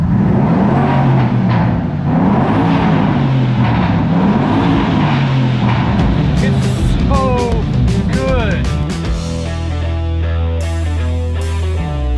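A 2003 Audi RS6 with its 4.2 liter bi-turbo V8 runs loud and close, the engine note rising and falling steadily through the whole stretch, with no talking over it.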